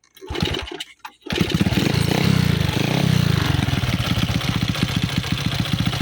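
A cold, freshly washed Honda Wave125 motorcycle engine cranks over, catches and settles into a steady, close-up idle with a rapid pulsing beat and a slight knocking tick.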